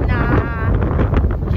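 Strong gusting wind buffets the microphone outdoors at a Google headquarters campus near a vehicle charging area, a loud continuous roar and rumble across the whole moment with a voice partly buried underneath.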